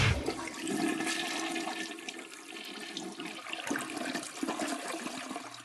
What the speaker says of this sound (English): The Flush.